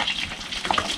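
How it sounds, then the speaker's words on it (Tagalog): Rice sizzles steadily as it fries in a pan for Filipino rice coffee, a close, continuous hiss with faint crackles and no speech. "Habang nagpiprito ako dito, nagluluto ako ng kapeng bigas."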